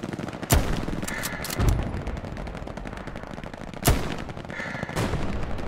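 Gunfire in the World War II shooter Hell Let Loose on the Utah Beach map: two loud sharp shots stand out over a steady roar of distant battle and scattered fire, with no talking.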